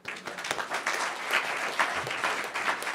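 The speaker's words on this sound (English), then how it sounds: "you can applaud for that." Steady applause from an audience at a military retirement ceremony, many hands clapping together at a moderate level for a few seconds.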